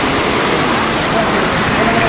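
Water rushing through a river gate in Paris, a loud, steady roar of churning water filling the whole clip without a break.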